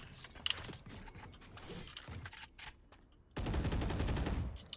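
A weapon reload clatters in Valorant, a quick series of metallic clicks and ratcheting mechanism sounds followed by a louder burst of rapid mechanical rattling, close and crisp.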